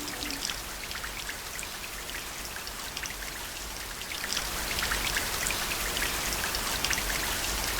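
Steady rain falling in a Makoto Shinkai film, a dense hiss of countless drops pattering on surfaces, continuous and enveloping, growing slightly heavier partway through, with no voices.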